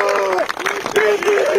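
A crowd at a rugby field ceremony breaks into brief applause, close and dense, with a voice talking over it.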